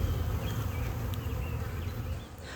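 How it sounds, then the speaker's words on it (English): Honeybees buzz at a backyard beehive, a dense, close, low droning hum with individual bees whining past, steady throughout and easing slightly near the end. "Oh, we got some baby bees, I see."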